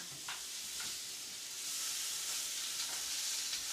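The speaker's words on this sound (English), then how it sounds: "I'm going to toss the frozen spinach in the pan." Frozen spinach hitting a hot pan gives a steady, bright sizzle that holds for several seconds, with a few soft scraping clicks of stirring near the start and later on, close by and with no talking.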